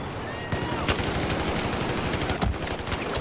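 Rapid bursts of automatic gunfire from the Battlefield 4 video game fill the whole stretch, loud and dense, with sharper shots standing out near the start and toward the end.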